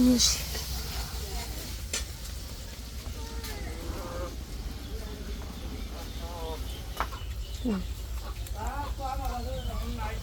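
Eggplant and potato frying in a home pan, a continuous sizzle with occasional stirring clinks, while someone talks throughout over the cooking.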